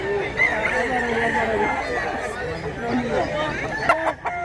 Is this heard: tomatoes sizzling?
no